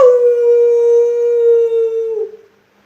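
A single person's long, loud sustained howl held steady for about two seconds, imitating a wolf howling at the moon, then sliding and fading out into silence.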